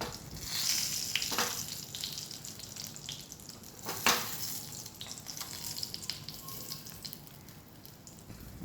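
Eggplant coated in gram flour and chili powder fries slowly in a pan, giving a steady close hiss and sizzle with a few soft clinks and splutters over it.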